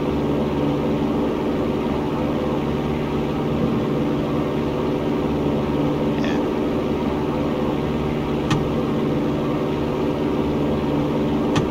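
Steady, loud drone of a light propeller aircraft engine at full power during takeoff, continuous and unbroken, heard from inside the cockpit with a faint brief beep partway through.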